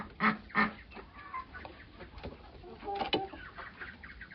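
Several chickens cluck and squawk in short bursts, a couple of louder calls near the start and more clustered clucks later, close by.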